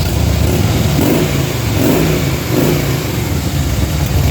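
A 2011 Harley-Davidson Fat Boy Lo engine runs steadily and loudly close by, its fouled plugs giving a slightly rough, spitting idle with faint periodic surges throughout.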